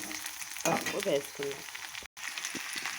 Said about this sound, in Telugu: బాగా ఫ్రై అయ్యేదాకా వేసుకున్నాం. చక్కగా మనకి ఫ్రై అవుతుంది.